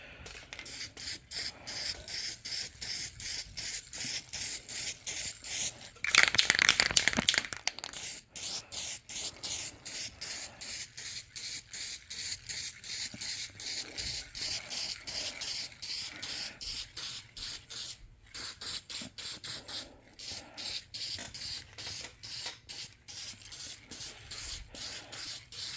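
Spray paint hisses in rapid short bursts, sometimes rubbing, as the first coat goes onto a part of a 1967 Evinrude Skeeter snowmobile under restoration, with one longer, louder spray midway.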